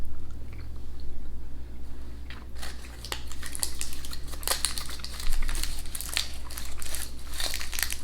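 Close, moist chewing of a firm, chewy Scandinavian toffee candy, with sticky smacking and faint wrapper crinkles that grow busier partway through.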